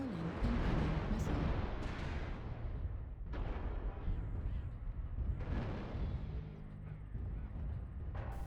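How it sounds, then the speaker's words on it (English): Missile impacts from MechWarrior Online land as a dense, continuous series of rumbling blasts and crackling bursts. The explosions swell and fade in waves against a constant battle din, with no clear pauses between hits. "Warning, incoming missile."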